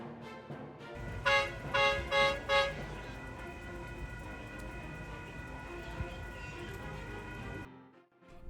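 A tourist train at the Dole Pineapple Plantation on Oahu sounds three loud horn toots in quick succession, then a steady rumbling hum of the train runs under the scene before cutting off.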